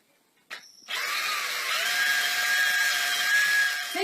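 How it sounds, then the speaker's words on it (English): A power drill bores a hole for a cable, starting with a brief click, then spinning up into a steady high whine that holds for about three seconds, close and fairly loud with no talk. "drill a hole same size as the cable"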